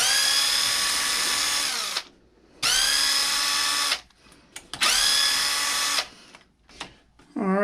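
Power drill unscrewing small 1.5 mm bolts from an RC truck, three sustained whirring bursts of about two seconds each, separated by brief pauses with small clicks and handling noises.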